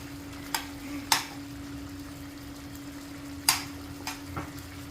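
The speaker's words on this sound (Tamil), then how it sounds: "நாம இந்த பன்னீர் பொரிச்சு வச்சிருக்க பன்னீரை இதோட சேர்த்துறோம்." Fried paneer stirred into a simmering, thickened gravy in a pan: a few sharp spoon scrapes and clinks against the pot over a low steady hum and soft bubbling, close by and with no talking.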